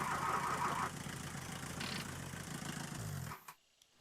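A golf car's engine in the driving game The Long Drive runs at a steady idle with a low, rumbling mid-range drone, then cuts out abruptly near the end, leaving near silence.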